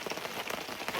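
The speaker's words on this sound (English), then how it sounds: "It is raining, but as you can tell, we made it to our tent." Rain falling on a tent on an Appalachian Trail thru-hike, a dense, continuous patter of drops on the fabric, close and even throughout the brief moment.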